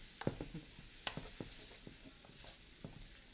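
Shrimp sear in a hot pan with a faint, steady sizzle, broken by light crackles and small pops and the occasional clink of a utensil.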